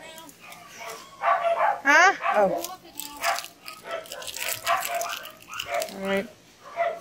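A dog barks and yips in a kitchen off-mic, its calls broken and mixed in under a person's nearby talking.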